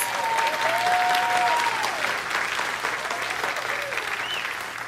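Loud, sustained audience applause fills a hall at a lecture, dense clapping from a large crowd heard at a little distance, with faint whistles or cheers mixed in.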